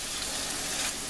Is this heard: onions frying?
yes